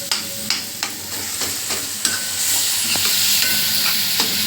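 Onion and vegetables stir-fried with cumin powder in a pan: a continuous hiss of frying is broken by sharp, repeated scrapes and taps of a spatula, up close and with no talking.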